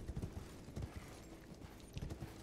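Horse hooves clop in a quick uneven rhythm over low rumbling background noise, fairly close and moderately loud, in the video game Elden Ring.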